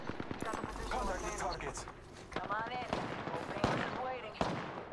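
Gunfire in the Apex Legends video game, a few sharp shots scattered among game effects and pickup sounds, with someone talking over them throughout.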